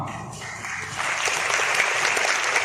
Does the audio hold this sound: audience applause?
yes